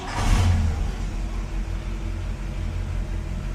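A 1960 Pontiac barn-find engine is warm-started, cranking and catching with a brief surge, then settling into a steady, low idle rumble nearby.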